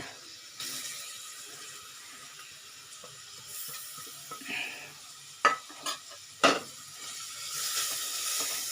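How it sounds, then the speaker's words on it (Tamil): Grated carrots sautéing in ghee over a slow flame for carrot custard kheer: a soft, quiet sizzle with occasional light scrapes and a few sharp metallic clinks of a spoon against the pan, no voices. "இந்த கேரட்டை நம்ம அதில் வதக்கிக்கலாம்"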